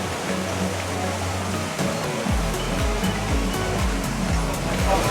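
Interactive waterfalls at Moana's Journey of Water theme park attraction, a steady close rush of falling and splashing water with a low pulsing rumble joining partway through.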